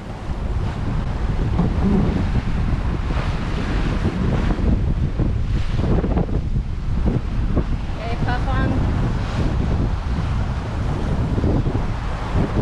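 Steady wind roars across the microphone on a sailing yacht at sea during an ocean race, with waves and boat noise beneath it and voices talking in the background.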